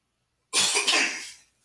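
A single harsh cough, close and loud, bursting out after silence and trailing off over about a second.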